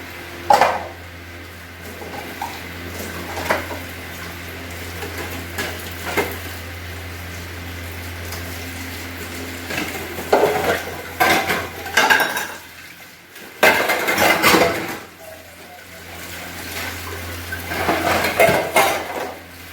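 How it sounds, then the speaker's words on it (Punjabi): Dishes, pots and pans being washed in a home kitchen, with scattered metallic clanks and clinks that grow busier and louder toward the end, heard alone over a steady low hum. "ਇਧਰ ਮੈਂ ਬਰਤਨ ਸਾਫ਼ ਕਰੂੰਗੀ"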